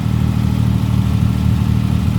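Engine of a 1938 SS Jaguar 3½ litre drophead idling, a steady loud low rumble running evenly throughout with no pause.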